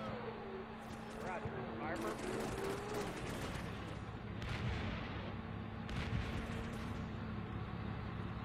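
Grenades bursting against a Bradley armored vehicle in the game Combat Mission: Shock Force, a run of sharp blasts and crackling gunfire over a constant engine drone, with someone talking now and then.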